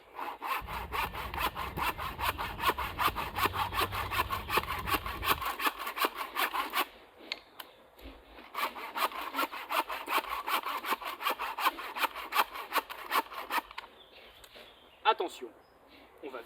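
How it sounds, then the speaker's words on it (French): A hand saw cuts through wood to make a half-lap joint, with fast, even back-and-forth strokes, close and loud, in two long bursts separated by a brief pause. "nous allons donc continuer à couper sur les marques que nous avons fait en essayant de faire le mouvement de scie le plus parallèle au sol possible"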